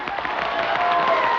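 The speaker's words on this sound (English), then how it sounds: "Can't you hear that applause?" Cartoon audience applause, a dense and steady wash of clapping from a crowd that carries evenly through the short stretch.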